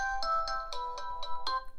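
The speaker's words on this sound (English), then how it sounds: "let's go through some of the ringtones." A bright melodic ringtone from an Infinix Zero 5G 2023 phone plays a quick repeating pattern of about six evenly spaced chiming notes, clear and close.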